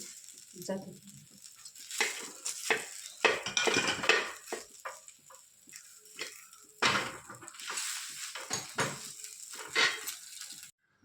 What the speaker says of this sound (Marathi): कांदे भाजून घेऊ